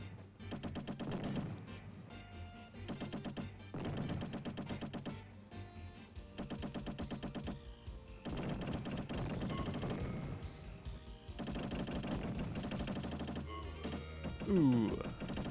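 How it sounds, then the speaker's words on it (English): Uzi fire from the PS1 game Lone Soldier comes in rapid staccato bursts of small, pop-gun-like shots, repeated in clusters with short pauses between, alongside game music and effects. "sounds like a little pop gun as well"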